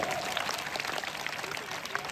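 A crowd at a school quiz event claps steadily and loudly for a correct answer, a dense continuous patter of many hands with no pauses.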